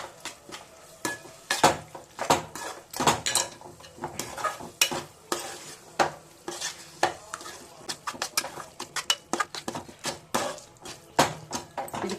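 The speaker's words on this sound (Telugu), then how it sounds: "ఇప్పుడు బాగా కలుపుకుందాము" A spoon stirs coriander powder into gongura egg curry in a metal pan, scraping and clinking against the sides in quick, uneven strokes, with a soft sizzle underneath throughout.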